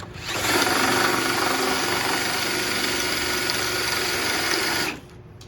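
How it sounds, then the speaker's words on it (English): A power drill held in a spiral jig whirs steadily for about four seconds, biting into wood with a buzzing, grinding tone before cutting off abruptly. "Grab my drill"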